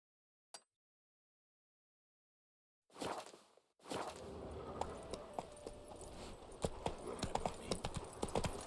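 Roach, a horse in The Witcher 3, clip-clops steadily along after a brief click and a short gap, hoofbeats close and clear over a busy background of ambient game sound.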